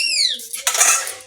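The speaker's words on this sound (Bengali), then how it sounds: "এই ঢাকনা খুলবো, এটা সেদ্ধ হয়ে গেছে" A metal lid lifted off a cooking pot of boiled egg and jackfruit in a home kitchen, giving a short clattering scrape and clink up close, with squeaky high rings early on and a brief burst of rattling noise.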